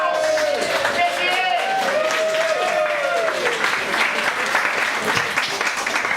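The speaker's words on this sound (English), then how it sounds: "Big round of applause." A live audience greets a comedian with loud, sustained applause and clapping that fills the room, with cheering mixed in and a speaker's voice riding over the crowd noise.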